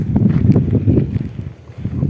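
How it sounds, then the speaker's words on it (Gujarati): Cold wind blows across an open groundnut field, buffeting the microphone with a loud, gusty low rumble that rises and falls over two seconds. "આજે તો બહુ ટાઢો પવન છે"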